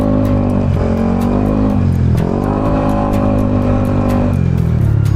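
A motorcycle engine that dies when throttled revs loudly and close by, its pitch wavering and sagging unevenly as it struggles under the throttle.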